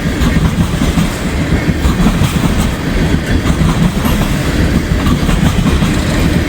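A Norfolk Southern freight train of empty ethanol tank cars rolls past close by in cold weather, its wheels giving a loud continuous rumble and rhythmic clickety-clack that hold steady throughout.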